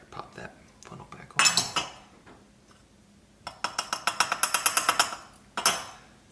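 A funnel is set back onto a wine-making vessel with a burst of bright clinks and clatter, then a quick run of rhythmic, close, sharp taps ending in one last clink.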